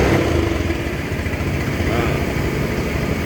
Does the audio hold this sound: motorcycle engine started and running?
yes